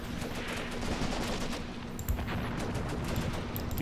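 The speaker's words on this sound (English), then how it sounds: "we've got just machine guns everywhere firing on this position" Machine guns fire without pause in the WWII tactics game Graviteam Tactics: Mius Front, with many weapons shooting at a defended position. The loud, dense rattle runs the whole time, with one heavier thump partway through.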